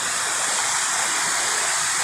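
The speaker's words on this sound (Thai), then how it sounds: "มาถึงน้ำตกที่ใหญ่แล้วครับ" A large waterfall at Wang Sai Thong in Satun, Thailand, gives off a steady, loud rushing roar of falling water, with no voices.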